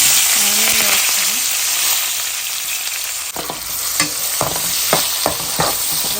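Onion added to hot oil in a pan for fish curry sizzles loudly and steadily, with a spoon scraping and stirring in several distinct strokes toward the end.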